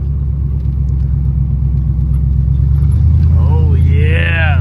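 A 1978 Ford's old engine idles and rumbles steadily while driving, a loud low drone filling the clip, with a brief rise in tone near the end.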